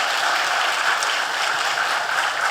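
A church congregation claps steadily in encouragement for the worship singers and instrument team during a Sunday sermon, a dense and even wash of many hands that holds for the whole moment without talk.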